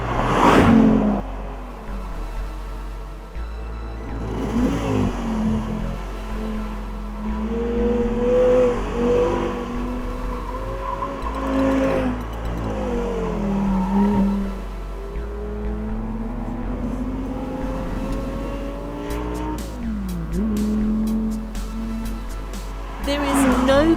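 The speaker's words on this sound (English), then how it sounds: "There is no comparing the sound of that V10 engine." An Audi R8 V10 engine revs and pulls through rising and falling pitch sweeps, loud and close, with a steady drone underneath.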